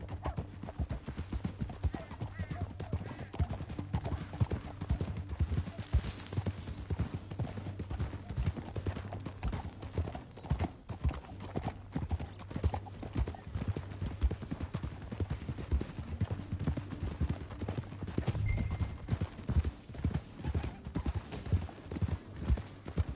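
Horses' hooves clip-clop steadily in a fast, continuous rhythm on a canyon trail, with a faint whinny heard once over the hoofbeats.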